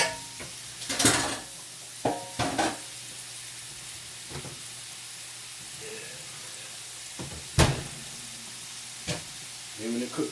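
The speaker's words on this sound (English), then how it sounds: "Give it a stir." Ground beef cooking down in a pan for a potato hamburger casserole, with a steady soft sizzle and several sharp scraping stir strokes scattered throughout, plus faint background voices.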